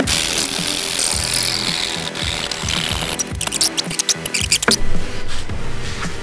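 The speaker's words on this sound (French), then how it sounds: "là je pré-perce mes petites barrettes qui vont servir de calage" Power drill pre-drilling small wooden battens used as wedges for securing a camper van door, a loud continuous whirr that breaks into short choppy bursts near the end.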